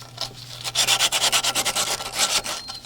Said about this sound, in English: Sandpaper comes in the kit.